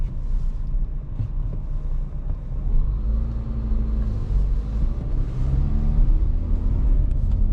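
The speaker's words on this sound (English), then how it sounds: "we are now going on a nice relaxed point of view drive through my hometown of Zagreb" A 2023 Dacia Duster Journey with a 115 HP engine and 4x4 cruises through Zagreb at night. A steady, deep engine and road rumble with wind noise fills the cabin throughout, and no one speaks.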